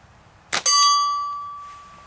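A rifle shot strikes a small gong target downrange: a sharp crack immediately followed by a bright, sustained metallic ring that slowly decays, with no talking.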